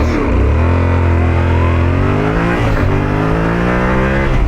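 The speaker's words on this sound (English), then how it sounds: "Let's see how fast this 73 brake horsepower bike really is." A Yamaha Tenere 700 motorcycle, a 700cc bike of 73 brake horsepower, accelerating hard from a standstill in sports mode, its loud, close engine note climbing with a short dip at a gear change.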